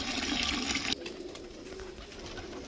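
Pigeons on a rooftop ahead of a bucket bath, with rushing water running loudly for the first second before cutting off, then soft cooing and rustling continuing at moderate distance.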